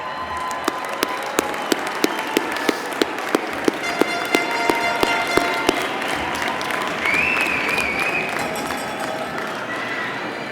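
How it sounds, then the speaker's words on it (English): Audience applause for graduates' families at a Lynn University commencement ceremony, a broad sustained crowd clapping with louder claps standing out near the front and a faint whistle cutting through partway. "let's give your families a round of applause"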